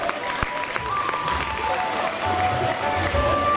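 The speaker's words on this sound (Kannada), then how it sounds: "ಚಪ್ಪಾಳೆಯೊಂದಿಗೆ ಪ್ರೋತ್ಸಾಹಿಸಬೇಕು" An audience claps continuously at a school annual day prize-giving, a dense wash of applause from a hall crowd, with a voice over a public address system partly audible.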